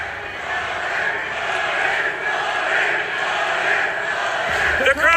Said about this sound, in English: The crowd chanted.